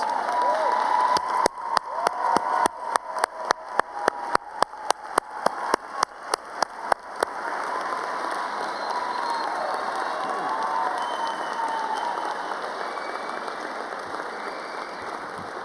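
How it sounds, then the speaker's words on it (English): Large audience at a 2019 college commencement ceremony applauds and cheers, with a sustained wash of clapping and crowd noise and a series of sharp, regularly spaced bangs in the first half. "let's give them a round of applause"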